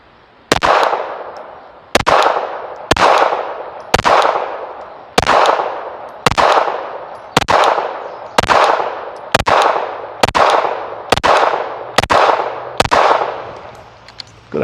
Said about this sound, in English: gonna shoot this through the Gen 5 Glock 19